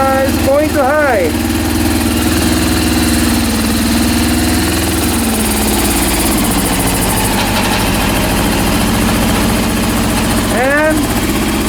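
A Honda CB400 motorcycle engine, rebuilt indoors, runs steadily at high RPM with a constant loud drone and vibration, briefly rising and falling in pitch near the start and end while a voice speaks over it.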